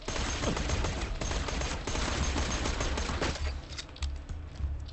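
Dense automatic gunfire in Borderlands 2, a sustained close barrage of overlapping rapid shots with some heavier impacts, loud and continuous throughout.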